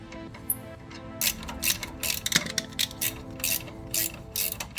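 A ratchet tightens a bolt on a Jeep LJ rear suspension lift, giving close, loud bursts of rapid clicking in repeated strokes after a quieter start.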